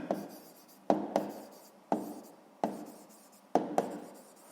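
Pen writing a math exercise answer on paper, a series of short scratchy strokes in uneven bursts, each starting with a sharp tap and fading, close and fairly quiet with no talking.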